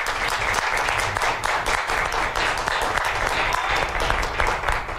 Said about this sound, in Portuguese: uma salva de palmas para os homens e mulheres do Corpo de Bombeiros do meu Brasil